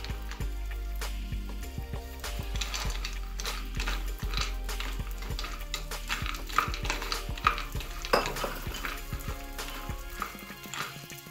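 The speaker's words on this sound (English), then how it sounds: "Next we have to roast our nuts using 1 teaspoon of butter." Nuts roasting in a teaspoon of butter in a pan, with frequent clicking and scraping stirs over a soft continuous sizzle and a low steady hum beneath.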